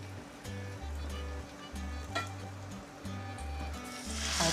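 Ridge gourd fritters (jhinge bora) fry in oil with a faint, steady sizzle and crackle, set against a low, rhythmic hum that pulses on and off.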